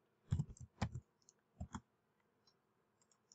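Keys tapped on a computer keyboard while typing a word into a spreadsheet cell: a few short clustered clicks in two quick bursts, close and fairly quiet, with no talk.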